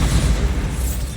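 Spell explosion from Hogwarts Legacy: a sustained low, rumbling boom that fills the whole moment, loud and close with no talk over it.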